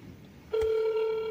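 A telephone ring tone starts abruptly partway through and holds as a steady electronic tone, loud and close, with no one answering and no talk.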